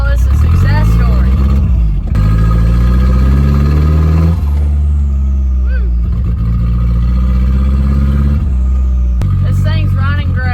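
A turbocharged Ford Ranger engine, freshly rebuilt, runs loud and close with a rough, throbbing idle that swells into several revs and settles again, while people talk and cheer over it.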